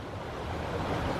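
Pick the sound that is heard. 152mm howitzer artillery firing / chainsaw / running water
running water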